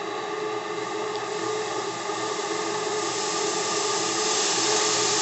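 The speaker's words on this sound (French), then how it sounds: "Le débit de vapeur, que vous pouvez déjà voir ici, et dans le reflet" Live steam pours steadily from a workshop boiler, a continuous loud broadband hiss with a faint tonal hum, holding even for several seconds with no talk.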